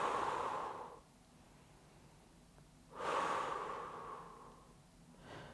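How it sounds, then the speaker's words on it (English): Deep breaths in and out held during a fitness stretch, two slow, close, breathy exhales a couple of seconds apart, then a third softer breath starting at the end, with quiet room tone between. "just hold it and just take some nice deep breaths in and out"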